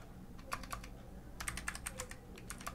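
Quick bursts of clicking keystrokes on a computer keyboard while Java code for an Android Studio app is typed, close and fairly quiet, arriving in short irregular clusters with brief pauses.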